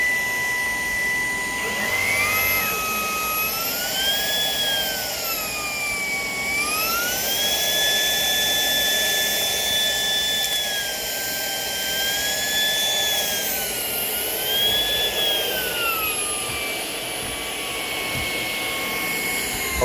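A Shark PowerDetect vacuum cleaner runs in a kitchen, a loud, close, continuous high whine whose pitch rises and falls as the motor speed shifts while it is pushed across the floor, with no talking.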